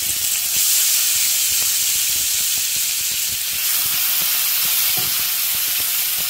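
Onion frying in about two small spoons of hot oil in a pan, a steady close, loud sizzle and hiss running the full length with small crackles and pops, no talking.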